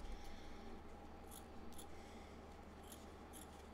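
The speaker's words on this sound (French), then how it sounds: "Le surplus, on va couper de la chaussette." Scissors snip off the excess of a white sock being fitted over polystyrene balls for a small snowman craft, a few quiet cuts over a steady background hum.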